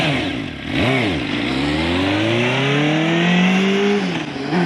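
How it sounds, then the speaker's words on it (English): A small crosskart engine fitted with a muffler runs close by, revving up and down with a muffled, droning tone and rising pitch as it accelerates. "A lot more quiet now with that muffler on it."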